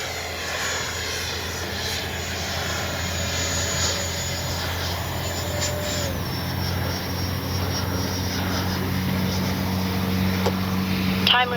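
A Freewing 90mm 6S Zeus RC jet taking off, a steady, loud electric ducted-fan whine with a rising and falling pitch sweep, close and continuous throughout.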